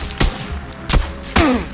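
Three sharp gunshots in PUBG, spaced irregularly, each a loud broadband crack with a short tail, the last followed by a descending whistle-like tone.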